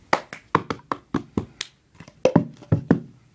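Cup song rhythm played fast by one person: a crisp sequence of hand claps and hard cup taps and slaps on a table, about a dozen sharp close hits in a quick patterned beat, with no talking.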